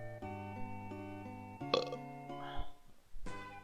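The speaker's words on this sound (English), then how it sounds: "I'm trying to incorporate at least a couple of these belches." Long, loud tonal belches with strong harmonic rumble, several drawn-out burps in a row with a short break, voiced by a person during a Mystic Quest playthrough.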